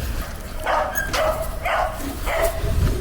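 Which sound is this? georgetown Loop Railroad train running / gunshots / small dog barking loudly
small dog barking loudly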